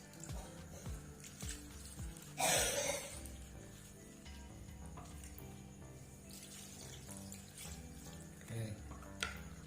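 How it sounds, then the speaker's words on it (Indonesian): Clean water is poured over green bean sprouts grown at home, a soft trickle and splash with one louder burst of pouring, handling sounds around it and no speech. "Cukup kita siram secukupnya menggunakan air bersih."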